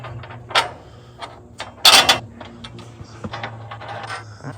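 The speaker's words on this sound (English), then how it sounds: "we're gonna pop this 1/2 inch bolt off first" A half-inch bolt is pulled from a bridge top rail truss, heard as sparse metallic clicks and taps with a couple of sharper clinks, close and fairly quiet.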